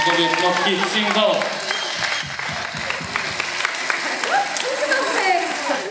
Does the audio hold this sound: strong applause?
yes